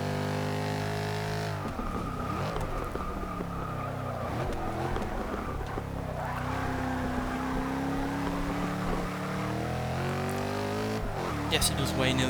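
A car engine in Forza Motorsport 6 rises and falls through several revs and gear changes with a steady, throaty drone. Someone talks over it throughout.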